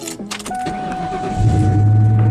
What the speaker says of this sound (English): Alright, so let's go ahead and start up this car.